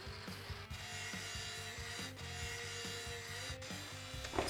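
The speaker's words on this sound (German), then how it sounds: "So, wo ist meine Flex?" In Tank Mechanic Simulator, an angle grinder cuts through tank metal with a steady rasping whine, repeated in regular rhythmic strokes at close range, with no talking.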